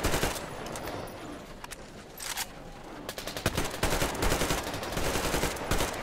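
Rapid AK rifle fire from the video game Metro Exodus crackles in dense, loud bursts for the whole stretch, with a brief lull in the middle before the shooting resumes.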